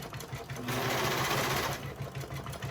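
A Brother 1034D serger running steadily at close range, its fast mechanical whir rising to full speed in the middle and easing back near the end, with no talk over it.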